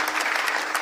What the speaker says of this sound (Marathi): मृदंगाचार्य आमचे हेमंत महाराज, त्यांच्यासाठी जोरात टाळी वाजवा.